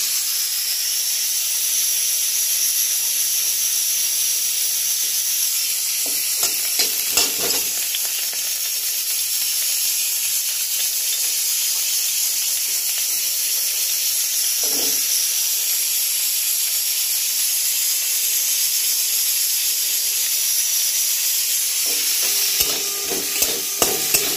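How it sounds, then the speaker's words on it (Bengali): Potatoes fry in a pan for a ridged gourd and potato curry, giving a constant loud hiss and sizzle with a few faint clinks and stirs along the way. "এখন আমি রান্না করছি ঝিঙে আলুর তরকারি। আলুটা আগে ভেজে নিচ্ছি।"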